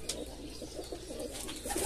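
Pigeons cooing softly in a breeding loft, low repeated coos running steadily through the clip with a faint higher chirp near the end and no talking.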